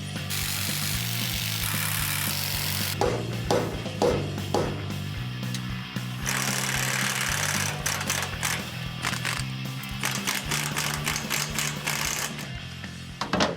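Seized leaf spring bolts being cut off on a Suburban off-road tow rig build, a loud continuous grinding whine with shifting pitch and bursts of metallic rattle, close and steady throughout.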